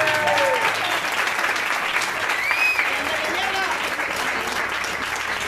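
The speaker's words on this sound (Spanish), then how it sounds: "esta noche tenemos que animar fuerte y sobre todo todos los aplausos y todas las ovaciones de hoy se los vamos a dedicar" A farewell event audience breaks into sustained, dense applause and ovation, a loud continuous wash of clapping from many hands with some whistles on top.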